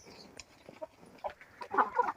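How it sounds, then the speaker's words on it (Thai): Chickens being fed leftover rice cluck softly in short scattered calls, close by and fairly quiet, with light rustling of the birds moving on a rural farm. "เอาข้าวที่เหลือนะคะ ให้ไก่กิน"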